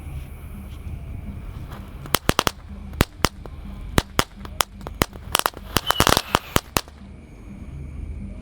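A rapid string of sharp pops and bangs from a launching firecracker tank, irregular and loud, bunching into a dense crackling burst before stopping, over a low background hum, at night.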